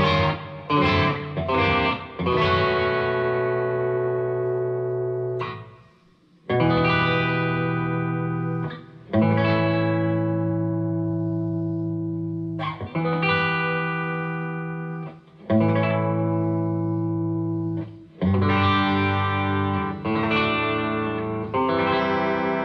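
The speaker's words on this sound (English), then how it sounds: "We are using a little bit of reverb, and I also have my NUX analog delay plugged into the effects loop. Going to the bridge position" A Harley Benton TE 62CC electric guitar on its bridge pickup, with tone and volume fully up, runs through reverb and an analog delay in the effects loop. Sustained chords and riffs ring out loud and alone, with short gaps between phrases.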